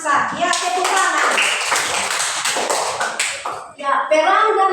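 Children in a classroom clap their hands together in a steady burst that runs for several seconds, with the clapping close and fairly loud and young voices mixed in before it fades.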